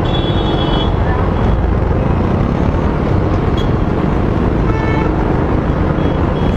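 Loud, dense road traffic noise surrounds a scooter ride, with engines and wind rumbling continuously and faint horn toots now and then.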